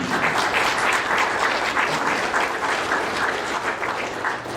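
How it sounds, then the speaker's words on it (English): Members at the Fort Mose Historical Society annual meeting in St. Augustine, Florida give sustained applause to the board volunteers, a full, even roar of many hands clapping throughout. "So please give those guys and ladies another round of applause for the outstanding job that they've done."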